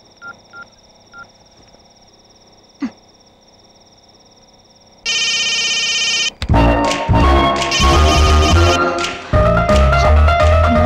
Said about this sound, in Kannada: ಫೋನ್ ರಿಂಗ್ ಆಗ್ತಾ ಇದೆ.